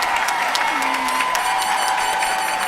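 Sustained applause from a crowd at a college commencement ceremony, steady clapping for graduates that fills the whole moment, with a faint tone running beneath it.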